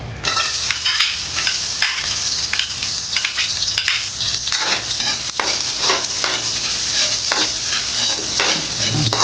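Garlic sizzling in hot oil in a pan while being stirred, a steady loud frying hiss broken by repeated scraping and clinking of the utensil against the metal.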